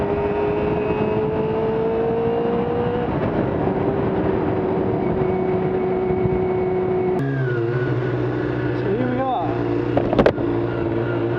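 A Kawasaki ZX-2R / ZXR250 motorcycle engine drones steadily while riding laps in an underground car park, its pitch rising and falling through gear changes, with a brief sharper rev near the end and a reverberant, enclosed tone.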